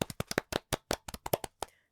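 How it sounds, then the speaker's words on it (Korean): A small group claps together during a relaxed Korean talk show chat, about a dozen sharp, close claps in an irregular burst that stops after under two seconds. "우리 박수 한번 칠까요?"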